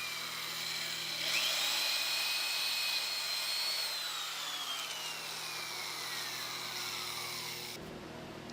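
A power drill boring holes into a motorcycle tail section during a flip plate install, a steady high whine that rises and then slowly falls in pitch as the bit works through, close and fairly loud, stopping abruptly at the end.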